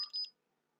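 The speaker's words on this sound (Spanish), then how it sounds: "inició y sonó dos pitidos, que quiere decir que el MikroTik ya se reinició" A MikroTik router beeps twice after rebooting, two quick high-pitched electronic tones in rapid succession, faint and followed by silence.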